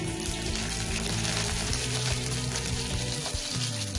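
Finely chopped garlic, about three cloves, frying in oil in a clay pot, a steady dense close-up sizzle that continues unbroken with no talking.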